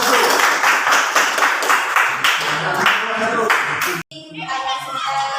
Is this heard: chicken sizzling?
no